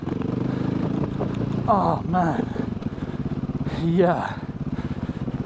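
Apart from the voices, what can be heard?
KTM EXC 450 dirt bike riding through dirt and sludge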